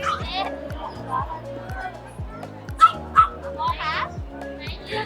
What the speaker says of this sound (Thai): ตัวนี้เห่าเก่งมาก